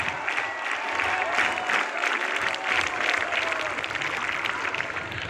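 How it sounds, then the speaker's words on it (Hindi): A big group of scouts at a Karachi scout camporee ceremony gives full, sustained applause for the arriving chief guest: thick, even clapping from many hands outdoors, holding steady for several seconds with faint crowd murmur beneath. "भरपूर तालियों में इस्तकबाल। Scouts clap"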